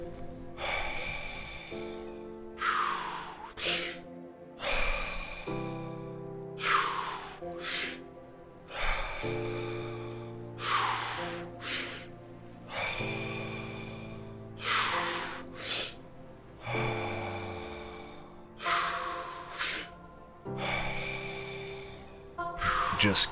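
A guided deep-breathing exercise: slow, audible inhales filling the belly and then the chest, each followed by a long release, repeating in a steady rhythm roughly every three seconds over soft ambient music, up close and clear.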